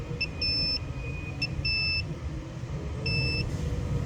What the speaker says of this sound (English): So it's beeping right here on this particular breaker.